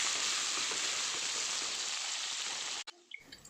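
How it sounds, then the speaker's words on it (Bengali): Potato and papaya pieces fry lightly in oil over a medium flame for a fish curry, giving a steady, dense sizzle that runs loud and continuous before cutting off abruptly, leaving a few faint ticks and clinks. "এটাকে একটু আমরা 2 মিনিট মতো হালকা ফ্রাই করে নেব মিডিয়াম ফ্লেমে"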